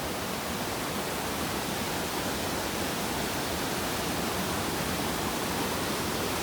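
Rushing water of Gendarme Creek on a backcountry trail, a steady, dense roar of flowing water that holds at the same loud level throughout, with no voices over it.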